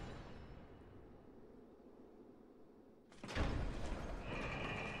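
In the Dark Souls 2 video game, a low mechanical rumble drones through a long elevator ride, then a loud clank and a heavier grinding roar kick in near the end.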